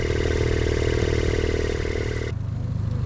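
A boat motor runs steadily and loudly nearby with a whirring, bearing-like mechanical noise, then abruptly cuts off near the end, leaving a quieter low hum.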